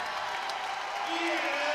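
A college basketball arena crowd applauds and cheers for a player being introduced, a broad wash of clapping that grows slightly louder, with a voice speaking over it.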